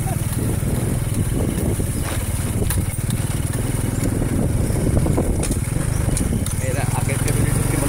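A motorcycle engine drones and putters steadily as the bike rides a narrow path barely wide enough for it, close and constant under occasional voices.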